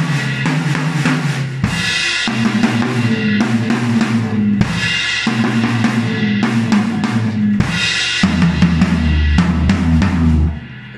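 Drum kit plays a rhythm in 5/4, with crash cymbal hits and fills moving around the high, middle and floor toms in a steady repeating pattern, loud and alone for about eleven seconds.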